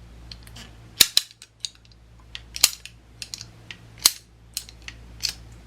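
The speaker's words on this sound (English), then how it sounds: "You can hear it click." A plastic pipe cutter's ratchet clicks in a basement: a series of sharp, dry clicks at an uneven pace, some crisp and loud, others softer, over a faint background hum.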